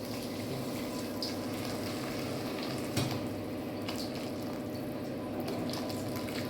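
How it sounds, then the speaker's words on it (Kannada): Boiling water poured slowly into a pot of vegetable pulao makes a steady, continuous watery rush that runs the whole time, close by, with one brief splash partway through. "ಕುದ್ದಿರೋ ನೀರನ್ನ ಮೆಲ್ಲಗೆ ಹಾಕಬೇಕು"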